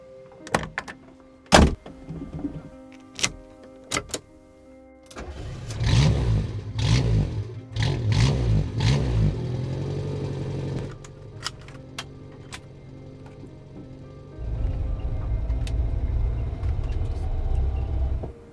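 A petrol Renault 5 is unlocked with a few sharp clicks and thuds, then its engine cranks and fires with a burst of revving, settles to a steady idle, and swells into a stronger, louder rev near the end.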